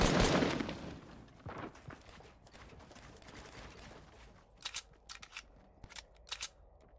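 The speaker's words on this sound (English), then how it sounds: "Now I'm getting sniped on from behind." Sharp distant sniper shots ring out in Fortnite, a noisy burst at the start followed by several separate crisp cracks spaced over the last seconds, with no talk over them.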